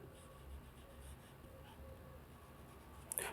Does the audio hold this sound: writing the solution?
yes